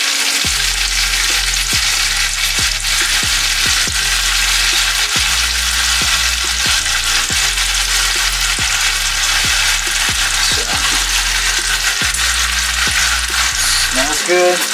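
Skinless mahi mahi fillet pan frying with lemon on top, a steady loud sizzle and crackle filling the whole stretch, punctuated by regular soft knocks of a utensil stirring or nudging in the pan.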